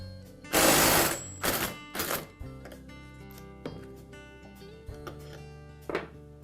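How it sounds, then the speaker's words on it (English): An impact wrench drives a removal tool to spin a Poulan chainsaw clutch off clockwise: one long, loud rattling burst, then several shorter hammering bursts, each leaving a faint metallic ring. "So I'll place my clutch removal tool onto the clutch and then use my impact to remove it in a clockwise rotation."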